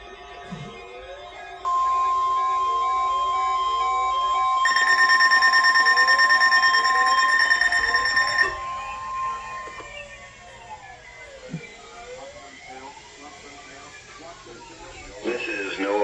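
NOAA Weather Radio Emergency Alert System test from Ruskin, Florida: raspy data bursts, then a long loud two-tone attention alarm that stops abruptly, followed by a faint warbling broadcast with voice underneath.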